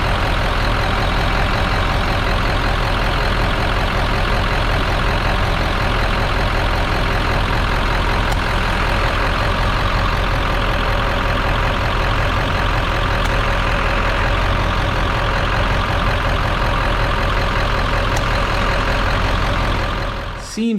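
An old Ford diesel engine idles close by with the AC clutch engaged, a loud, steady, even rumble holding for about twenty seconds before cutting off abruptly at the end.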